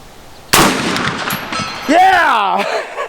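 A single loud, sharp report from a .50 Beowulf AR-15 rifle fired at a small steel plate 200 yards out, followed by a ringing decay and a shouted voice.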